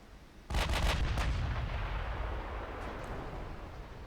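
Heavy naval gunfire from warships in a video game, a sudden loud cannon salvo of several rapid booms followed by a long rolling rumble that slowly fades.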